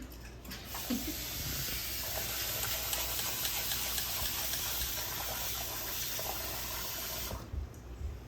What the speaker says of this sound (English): You rinse it a couple times until the water itself turns clear.